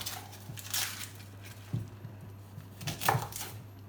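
A knife cutting through an onion on a board while making chicken fajitas, a few separate soft chops and crunches spread out, with a steady low hum underneath.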